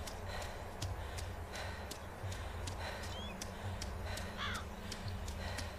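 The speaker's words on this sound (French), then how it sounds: "Peut-être buter le corbeau." A crow caws repeatedly in a DayZ game world, short harsh calls in an irregular rhythm at moderate distance over a steady low ambient hum, with no talk.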